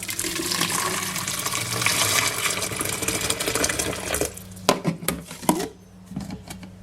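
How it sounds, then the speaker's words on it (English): Boiling water from a kettle poured steadily into a yogurt maker, a loud continuous rushing pour that stops after about four seconds, followed by a few drips and splashes. "pour the water in"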